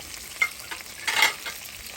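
Quails frying in a kazan, a soft steady sizzle with a few brief louder crackles and a short surge of hissing.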